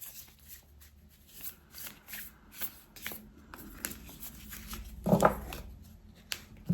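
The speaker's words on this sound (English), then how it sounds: "We'll pull one more card here to close out the reading." Tarot cards are shuffled by hand in a quiet room, giving soft papery riffles and slides throughout, with one louder, denser shuffle burst near the end.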